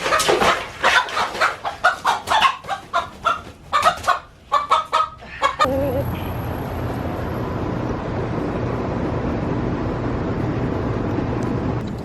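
Backyard chickens in an urban chicken yard cluck in a rapid, uneven series of close calls, then fall away into a steady ambient outdoor hiss.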